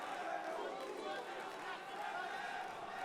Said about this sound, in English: The crowd getting behind the Commando Boy with the chants here in the big top arena.